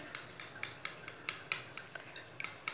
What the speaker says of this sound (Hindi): अंडों को अच्छी तरह मिक्स कर लेंगे